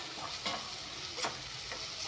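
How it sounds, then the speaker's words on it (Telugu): Ginger garlic paste fries in a pan with a low, even sizzle while a spoon stirs, giving a few soft scraping strokes and a sharper tap at the end, no voices. "అల్లం వెల్లుల్లి పేస్ట్ది కొంచెం పచ్చి స్మెల్ పోయేంత వరకు మనం ఫ్రై అయితే"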